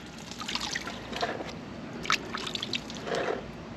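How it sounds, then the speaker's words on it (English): Water sloshes and trickles as gravel is washed by hand in a UFO gold pan during backyard placer gold prospecting, a soft, continuous liquid wash with a few brighter splashes, close and alone. "you just gently use your hand to wash this material out"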